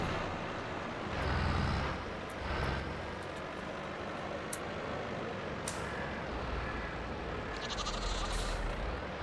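Sheep bleat a few times in a farming video game over a steady drone of farm machinery, with brief clicks and bumps scattered throughout.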